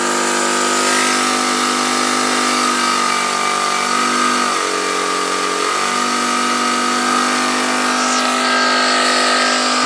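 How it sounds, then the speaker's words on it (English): A fuel-less generator runs steadily throughout, a constant mechanical hum with a brief shift in tone partway through, powering lights and a fan. "Generator's on, running"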